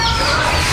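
Chickens clucking outdoors, a loud, continuous stretch of close, overlapping fowl calls with no talk.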